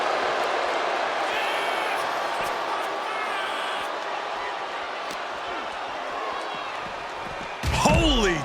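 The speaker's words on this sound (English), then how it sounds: "A lift up power bomb. Oh, did you hear that thud?" A heavy body slam thuds into the ring during a Drew McIntyre vs Batista match in WWE 2K25. A loud, sharp impact lands near the end over a constant roar of game crowd noise.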